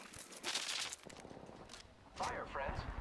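Gunfire in the Apex Legends video game, scattered shots and short bursts mixed with voices and game sounds, moderately loud and busy throughout.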